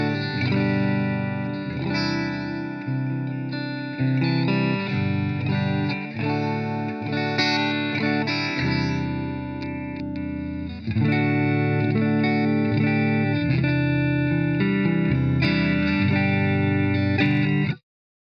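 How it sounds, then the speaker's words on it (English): A clean electric guitar plays chords and notes through a modeled Fender Twin Reverb amp with a touch of reverb, sustained and fairly loud, no voices. "this is a Fender Twin reverb that I use for my cleans"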